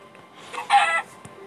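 A Minecraft chicken gives a single short, close cluck, with a brief noisy burst in the middle and quiet game ambience around it.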